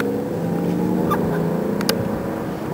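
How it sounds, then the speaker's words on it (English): Mercedes-Benz S600 V12 with the AMG Sport appearance package, running smoothly with a steady low hum throughout, heard from inside or near the car, with a brief faint high chirp near the end. "But there's something about a 12-cylinder."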